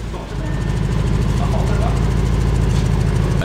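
A 2020 Audi S8 engine idles steadily through its stock exhaust, with a low, even rumble, continuous and fairly loud throughout.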